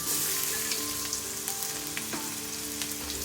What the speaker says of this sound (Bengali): তারপর তাতে দিয়ে দেব কেটে রাখা পেঁয়াজ ও রসুন।